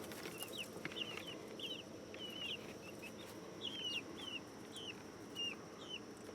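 Several chickens cluck and call in short repeated bursts across a backyard flock, moderately close, over steady outdoor background noise with no talking.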